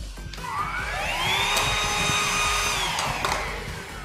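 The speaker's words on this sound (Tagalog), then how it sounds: "At ito ay ang pinaka-cute na vacuum cleaner sa buong mundo." A small, compact vacuum cleaner runs steadily with a rising then falling whine, loud and close with no talk over it.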